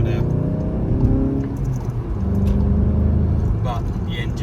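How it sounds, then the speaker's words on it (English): Stock 2013 Volkswagen Golf GTI with a 2.0L engine and six-speed manual, idling and revving in a low steady drone close by, with a person talking over it throughout. "The engine sounds really, really nice."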